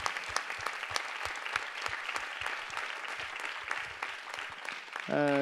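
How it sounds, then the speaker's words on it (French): Steady clapping from a small crowd, sharp and continuous, with a tonal sound cutting in right at the end. "on peut lui faire des applaudissements"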